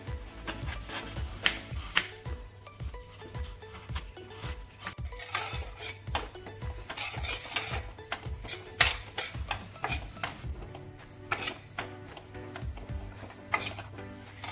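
Sesame seeds roasting in a kadhai over low flame, stirred with a utensil that gives a string of soft, evenly spaced scrapes and light metallic clinks, fairly faint and without speech.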